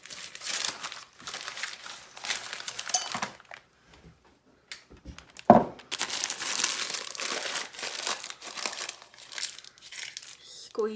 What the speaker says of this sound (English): I'm just going to use my knife, cut this baking paper off.